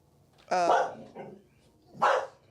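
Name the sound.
neighborhood dogs barking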